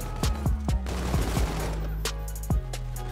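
Gunfire in the Infinite Warfare shooter game, with several sharp close shots in a rapid irregular burst over a steady low rumble, and one more shot after a short pause.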